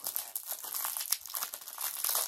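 Fidget toy packaging torn open by hand without scissors, a continuous close crinkling and crackling of plastic with small rips, loud and alone.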